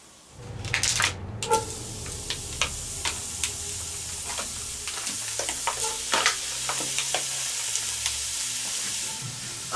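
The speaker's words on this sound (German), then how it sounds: "wenn dann unser Senfhackfleisch ein bisschen angeschmorgelt ist, dann können wir es rausholen" Mustard-seasoned minced meat fries and sizzles in a Dutch oven with a steady hiss, broken by frequent sharp clacks and scrapes of a utensil stirring the pot up close; no one speaks.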